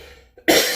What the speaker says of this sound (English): the cough is better than last week, but I still got it.